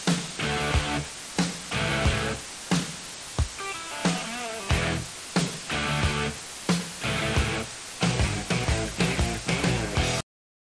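The intro of a song plays with noise added on top: loud, punchy rock guitar chords and drum hits in a stop-start rhythm under a constant hiss, then it cuts to silence.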